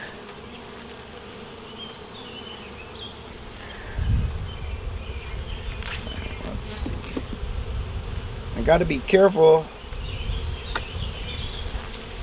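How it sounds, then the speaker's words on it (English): Honey bees drone steadily from an open hive as frames covered in propolis are slid apart, a dense, close buzz running throughout, with someone speaking briefly and some handling noise near the end. "There's enough bees here that they look like they're doing really good."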